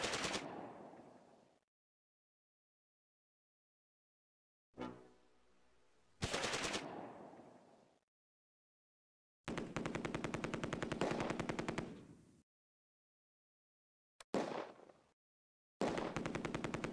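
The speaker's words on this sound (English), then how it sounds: "The MG42 opens up again" An MG42 machine gun in the Close Combat video game fires in repeated bursts, some short and some sustained rattling volleys, separated by silence, each burst ending in a brief echoing decay.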